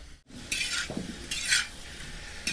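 Paneer and cashews frying in ghee for a dhaba-style kaju paneer masala, with a few distinct stirring scrapes of a spoon against the pan over a low sizzle, close and fairly loud, no voices.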